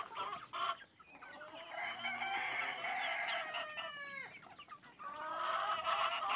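Chickens cluck and a rooster crows on a farmyard where ducks and chicks are fed, the calls close and overlapping in a steady stream of clucks with a drawn-out crow in the middle.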